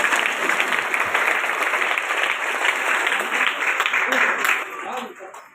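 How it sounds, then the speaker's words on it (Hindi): Audience in a church breaks into sustained applause, a dense wash of clapping that holds steady for several seconds, then thins and fades near the end, with a few voices mixed in. "एक बहुत तालियां में लेटू के लिए तालियां बजाइए"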